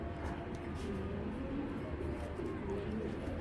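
Two male racing pigeons coo softly in a loft, the low burbling calls running continuously under a dense, steady background hum.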